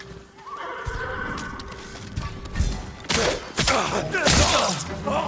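Samurai horses whinny loudly nearby in the video game Ghost of Tsushima, while hooves clop and thud, with a busy clatter of movement building toward the end.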